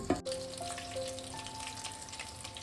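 Soft, steady sizzle of topshe fish frying in oil, with a brief knock at the start and a faint tonal hum underneath.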